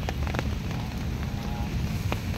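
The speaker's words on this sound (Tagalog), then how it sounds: "Ayan, medyo umuulan talaga, masama panahon." Steady rain patters on surfaces outdoors during a fishing trip in bad weather, a dense close hiss with scattered drips, mixed with low wind rumble throughout.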